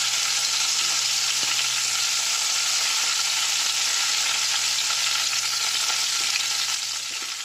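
Cinnamon, cloves, cardamom and curry leaves sizzle in hot oil for a roadside-style egg gravy, a loud, steady hiss of frying that continues evenly throughout.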